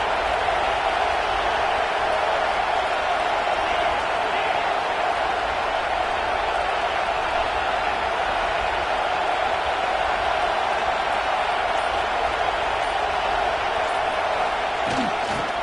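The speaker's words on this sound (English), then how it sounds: "the crowd coming to life here, trying to help this defense down in the red zone" A football stadium crowd roaring to urge on the home defense in the red zone at an LSU game, a dense continuous wall of cheering and noise that holds steady throughout.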